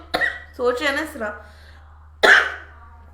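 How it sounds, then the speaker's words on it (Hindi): A woman lets out a sharp cough, then speaks briefly, then coughs again in another short, harsh burst, close and clear in a quiet room. "लगता है किसी ने बड़े गंदे अल्फाज में मुझे याद किया, खांसी शुरू हो गई है।"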